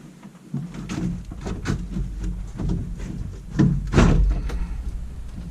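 A pickup truck's front grille, its four bolts removed, is tugged loose by hand during a Road Armor bumper install, producing a series of plastic clunks and scrapes that build to louder thumps as it comes free.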